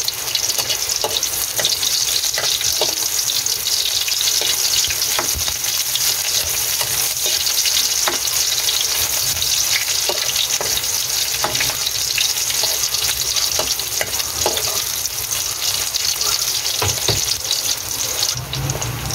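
Garlic and onion sizzle steadily in hot cooking oil in a pan, a dense, continuous crackling fry that stays loud and even throughout, with occasional stirring clicks.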